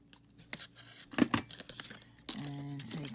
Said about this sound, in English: I'm going to take and snip off my excess here in the back